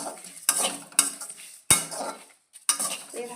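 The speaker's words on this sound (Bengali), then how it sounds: "এভাবে লো আছে মশলাটা আস্তে আস্তে ভাজতে হবে।" Whole cumin, ground coriander and dried chillies fry on low heat in a pan, with short bursts of a utensil stirring and scraping over a soft sizzle, broken by brief pauses.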